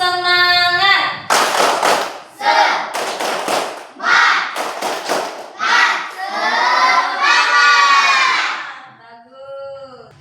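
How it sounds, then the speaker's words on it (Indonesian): Schoolchildren in a classroom do a tepuk semangat clapping chant, bursts of rhythmic group clapping alternating with loud shouted chant lines in a steady pattern, with a teacher's voice at the start. "mari kita bersama-sama melakukan tepuk semangat"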